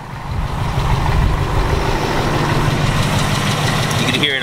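A Ford Mustang engine idles loudly and steadily up close, with a rapid light ticking running through the low rumble.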